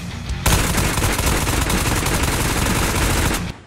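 Gunfire from a gun in Ghosts of Tabor, a loud sustained burst of rapid automatic shots in a fast even rhythm lasting about three seconds before cutting off abruptly.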